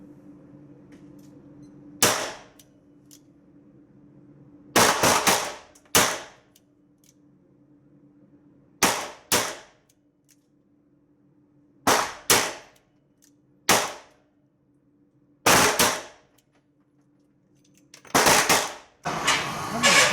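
Pistol shots ring out during a police pistol shooting course of fire, arriving in sharp loud bursts of one to three cracks with pauses of a few seconds between them, over a low steady background hum.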